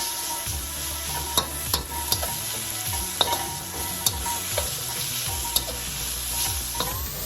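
Garlic and carrot sizzling in a hot pan while being stir-fried for Singapore noodles, a steady close frying hiss broken by repeated scrapes and clacks of the utensil against the pan, with no voices.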